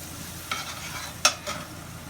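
Freshly grated ginger and garlic hit a hot pan with a hissing sizzle, punctuated by two or three sharp stirring scrapes up close.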